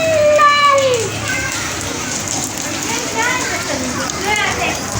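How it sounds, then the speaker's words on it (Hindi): The first winter rain falls in a village lane, a steady wash of drops and runoff while someone talks over it throughout. "देखें बारिश हो रही है।"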